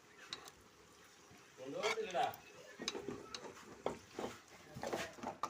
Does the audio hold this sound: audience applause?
no